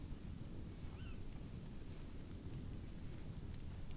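Steady, dense rain hisses without a break in the Conan Exiles game at night, a constant wash with a heavy low rumble underneath and no voices.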